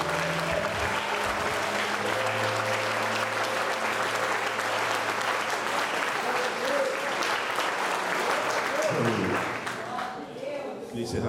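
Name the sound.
congregation applauding God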